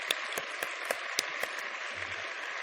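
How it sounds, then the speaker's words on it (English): Audience applause at an INSEAD graduation ceremony, a continuous wash of clapping with a few sharper distinct claps popping out at a regular pace, moderately quiet. "So one more round of hands of applause for that."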